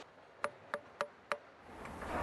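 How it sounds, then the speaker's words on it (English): A small hammer taps a block of sculpting stone to test its tone: four sharp, ringing knocks spaced evenly about a third of a second apart, then a rising background hiss. "We use this tool, the little hammer, to listen how the stones sound"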